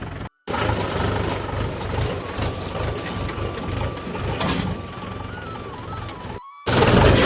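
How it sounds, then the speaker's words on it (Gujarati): A tractor engine runs steadily at close range, a continuous mechanical drone with a faint rising whine, cut by brief dropouts near the start and end. "ટ્રેક્ટર ચાલુ મૂક્યું હતું"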